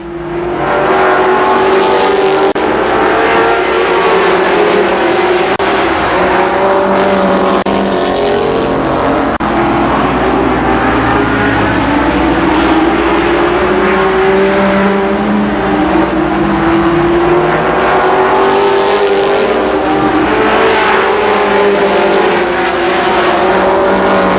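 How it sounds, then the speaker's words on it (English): Super late model stock cars race at Columbus Motor Speedway, engines roaring loudly and continuously as the pack circles, pitch rising and falling with throttle and passing cars, with no talking. "Justice to the outside of Dennis Kelly, racing for that second spot"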